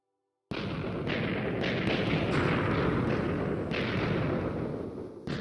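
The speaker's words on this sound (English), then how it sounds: "it has the juicy old TNT sound" A Minecraft TNT explosion in the Create Aeronautics mod starts abruptly and leaves a loud, sustained rumbling blast with crackling debris that slowly fades, with no one talking.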